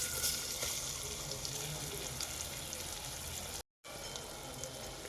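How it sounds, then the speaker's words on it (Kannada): Chopped onions sizzle in a pan for chicken masala fry, a steady close crackling hiss with a brief cut near the end and no talking. "ನೋಡಿ, ಈರುಳ್ಳಿ ಚೆನ್ನಾಗಿ ಫ್ರೈ ಆಗ್ತಾ ಬರ್ತಿದೆ."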